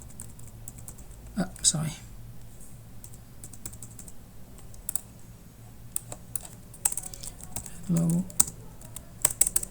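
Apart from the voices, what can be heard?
typing on a computer keyboard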